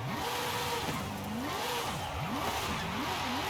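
A BMW M2 Formula Drift car engine in Forza Horizon 5 revs up and down repeatedly in rapid surges, a steady mid-pitched roar with rising and falling pitch, fairly faint and continuous.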